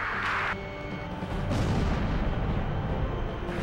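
Gunfire and explosive booms in the video game Ace Combat 5, a dense, continuous rumble of shots and blasts filling the whole stretch, loud and without speech.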